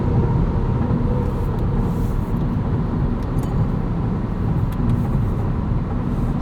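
A 2023 Acura Integra with a manual gearbox and 1.5-litre turbo engine hums low and steady under way, its engine drone mixed with road rumble inside the cabin.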